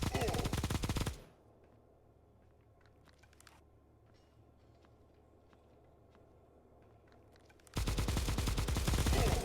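Rapid machine gun fire in the mobile shooter Bullet Echo, loud dense bursts opening the moment and returning at the end, with a quiet stretch of faint clicks and movement between them.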